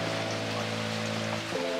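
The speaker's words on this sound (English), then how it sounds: "But look at this rain though." Steady rain falls on outdoor surfaces on a school morning, a dense, even hiss of drops with no pauses and no voices.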